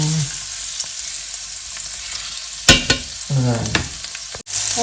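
Garlic sizzles in a hot pan at close range, a steady hiss of frying with brief stirring clatters partway through and no talking.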